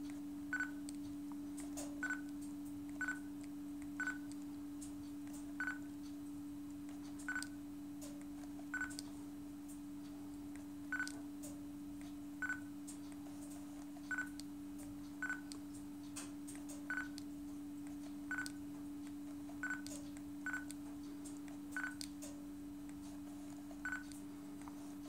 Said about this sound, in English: I have also activated the AF confirm sound so you can hear when the camera acquires focus.